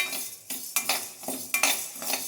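Curry leaf podi ingredients dry-roasting in a pan, with repeated metallic scrapes and clinks of a spoon stirring against the pan in an uneven rhythm, close and fairly quiet.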